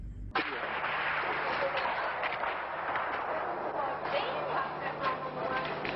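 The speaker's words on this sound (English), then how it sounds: "Gunshots." Rapid, continuous gunfire from the 1996 Port Arthur massacre on a quiet Sunday, sustained and dense for several seconds after an abrupt start, with no talk over it.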